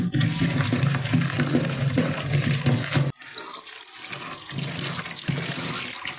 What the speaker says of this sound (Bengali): মাছটা লবণ দিয়ে ভালো করে ধুয়ে নিচ্ছি।